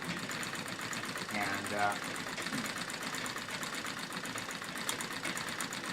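Treadle sewing machine quilting through denim, a fast, steady mechanical chatter of the needle running continuously at moderate volume beneath a person talking.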